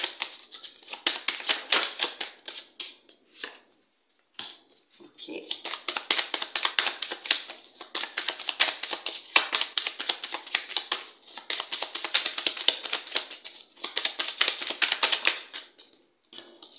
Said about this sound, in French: On va recouvrir les cartes hein